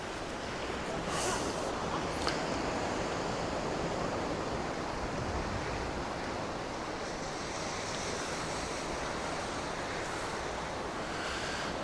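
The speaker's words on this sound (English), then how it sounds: "See the waves?" Waves roll and break over the harbour bar at Port Isaac in Cornwall, a continuous broad roar of surf heard from a distance with gusting wind noise on the microphone.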